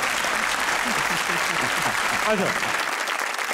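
Studio audience applause on a Geo comedy talk show, a steady wash of clapping filling the room while a voice speaks over it before it cuts off near the end.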